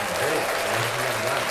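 A studio crowd at a live sports talk show breaks into steady applause, a dense, even patter of clapping with a low voice murmuring underneath.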